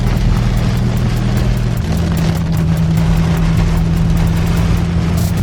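2021 widebody Dodge Charger driving in the rain, a loud, steady engine drone heard from inside with a gear shift partway through, over a constant wash of road and rain noise.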